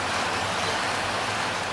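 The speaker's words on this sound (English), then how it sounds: "Oh, yeah, she's raining." Rain falls steadily around a 1938 Chevrolet, a dense even hiss with no breaks, heard on its own.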